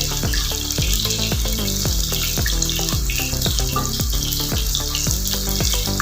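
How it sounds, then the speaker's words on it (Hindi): Salted bitter gourd pieces fry in a pan with a steady, loud oily sizzle throughout, with rhythmic tonal background music over it. "अब पहले इसको एक साइड से फ्राई करूंगी और साथ साथ इसको हिलाती भी रहूंगी।"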